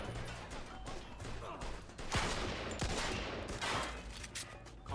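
Gunfire in the Mafia II game, a quick volley of sharp shots fired close, under a continuous low rumble, with a voice speaking now and then.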